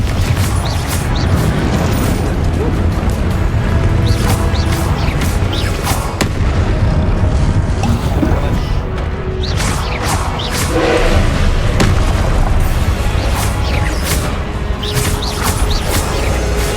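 Confringo spell explosions in the Hogwarts Legacy video game, a loud dense barrage of booms and crashes that runs continuously with no pause.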